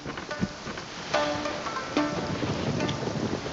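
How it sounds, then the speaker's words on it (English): Rain and rolling thunder in the Genshin Impact video game, a steady wash of rainfall with soft rumbles and a couple of sharper cracks, heard alone without voices. "Many people dread the sound of thunder."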